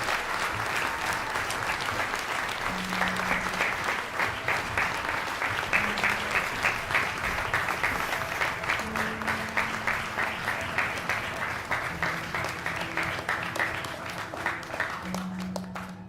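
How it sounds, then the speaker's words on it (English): Sustained audience applause at the Hult Prize global finals in the UK, a dense wash of many hands clapping steadily throughout at full strength, with faint tonal sounds from the hall underneath. "Let's give them one more round of applause"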